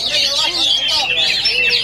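An oriental magpie-robin sings at the Kapolres Pekalongan Cup 2023 bird contest, pouring out loud, close, rapid whistles and chirps without pause.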